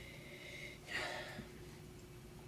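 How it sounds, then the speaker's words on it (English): A single short, quiet sniff of Brunello, a Sangiovese red wine from Tuscany, held in a glass, rising briefly out of a near-silent room. "Let's give it a little sniffy sniff."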